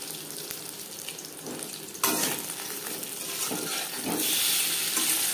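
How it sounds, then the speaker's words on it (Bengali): Fish frying in hot oil in a pan over a flame sizzles steadily and fairly loudly, growing a little brighter and more intense partway through, with no talking. "হাই ফ্লেমে তেল আমি গরম করে নিয়েছি। মাছ ভাজবো"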